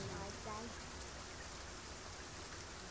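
Steady, dense rain hisses down with puddles on the ground in the video game Dragon's Dogma 2, a constant even wash of sound with a brief murmur of voice at the start.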